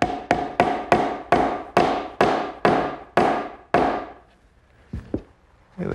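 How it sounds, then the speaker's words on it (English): A hammer strikes a block of wood to close a wooden joint on a rolling shop cabinet, giving about nine crisp, evenly spaced knocks, then a short pause and three more scattered taps, close and clear with no talk. "if it needs a little help at the end, a block of wood and a hammer will do the job"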